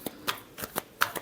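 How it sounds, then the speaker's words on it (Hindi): Tarot cards shuffled during a Scorpio reading, heard as six quick riffling bursts spaced about a quarter second apart. The sound is close and crisp, with no talking. "Last shuffle."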